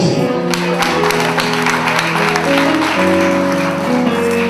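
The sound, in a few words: church congregation applauding the Lord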